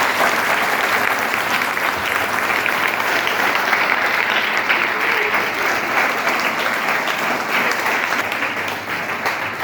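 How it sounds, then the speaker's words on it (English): A large crowd at a school Krishna Janmashtami celebration applauds steadily and loudly throughout, dense clapping with no breaks, fading only slightly near the end. "they have done a big round of applause"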